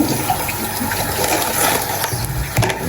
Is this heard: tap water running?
yes